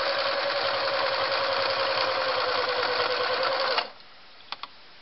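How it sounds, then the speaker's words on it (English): A Singer Model 353 Genie sewing machine runs a straight stitch through layers of flannel, giving a fast, even mechanical whir for about four seconds before stopping abruptly, followed by a couple of faint clicks. "I just wanted to run some stitches through here to see how it did"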